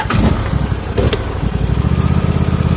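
A 2007 Husqvarna YTH2454 lawn tractor engine cranks with a couple of bursts, then catches and settles into a steady, loud, close running chug, with no talk.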